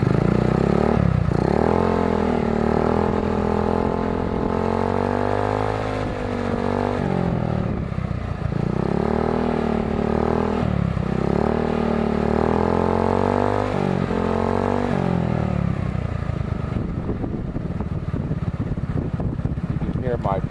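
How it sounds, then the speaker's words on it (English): GY6 150cc scooter fitted with a performance exhaust, loud and close, idling with a throbbing putter, then blipped through several rising revs and a sustained higher rev near the end. "here's the exhaust at idle, and here's when you rev on it."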